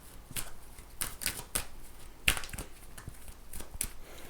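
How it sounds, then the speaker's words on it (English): Tarot cards shuffled by hand, a series of soft riffling snaps and papery flutters at irregular intervals, close and fairly quiet with no talking. "So now, my gorgeous Leone, I'm going to shuffle these cards"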